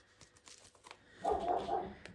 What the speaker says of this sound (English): I knew the dogs would kick off.